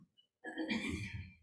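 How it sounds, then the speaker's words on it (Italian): A single short cough, or a throat being cleared, comes from a person in a quiet indoor room during a talk. It is a brief, fairly soft burst that follows a moment of near silence. "I colpi di tosse."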